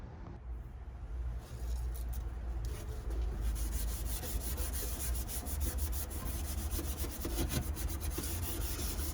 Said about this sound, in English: I'm just gonna go in here and scuff this pan